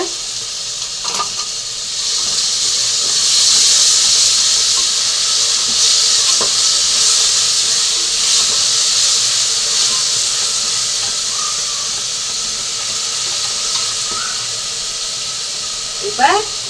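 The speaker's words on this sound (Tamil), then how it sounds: "இஞ்சி பூண்டும் சேர்த்து அரைச்சி வச்சுருக்கோம் அதை போட்டுக்கிறோம்" Ginger garlic paste sizzles in hot oil while egg fry biryani is cooked, making a steady, loud, bright hiss that holds throughout with a few faint clicks and pops.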